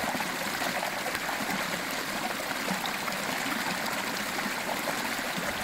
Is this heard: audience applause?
no